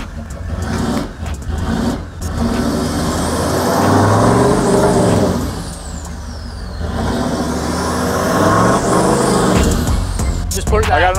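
Toyota LandCruiser stuck in a creek, engine revving and straining with rhythmic clunks and knocks from a broken front left hub or axle, close and loud, with people talking over the noise.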